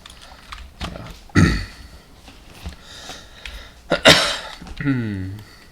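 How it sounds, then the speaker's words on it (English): Someone clears their throat harshly a couple of times, close by, between stretches of talking. "Sorry, I had to clear my throat."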